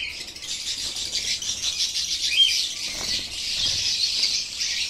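Caged lovebirds flutter and flap their wings as they fly about close by, a steady rustling flurry with faint high chirps mixed in throughout.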